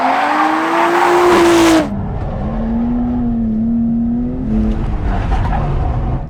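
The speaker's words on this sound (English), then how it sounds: "This time we're with Jeff doing some drifting." A Nissan R32 Skyline drift car slides, its tires squealing loudly over a high, wavering engine howl, a long sustained screech that eases and then rises again.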